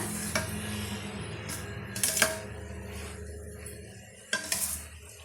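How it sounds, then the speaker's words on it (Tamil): Banana stem stir-fry with grated coconut sautés in a pan: a soft continuous sizzle broken by a few sharp clinks and scrapes of a spoon against the metal, with no voices. "இப்போ ரெண்டுலேருந்து ஒரு மூணு நிமிஷம் இதை நம்ம வதக்கி விட்டுக்கலாம் மீடியமான ஹீட்டில் வச்சுக்கலாம்"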